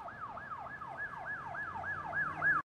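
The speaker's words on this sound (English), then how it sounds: "those ambulances are probably the ones going for Hank" An ambulance siren in a TV drama wails in a fast repeating up-and-down yelp, rising steadily louder as the vehicle draws near, over low traffic rumble.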